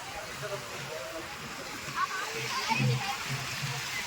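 Water splashing and sloshing in a river during a festival procession, a faint, continuous wash of moving water with occasional louder splashes, under distant voices.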